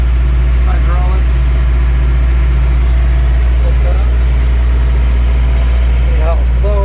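A tractor engine runs at a steady idle, loud and close, while slow hydraulics lift the loader bucket, with faint whining strains rising above the low engine drone.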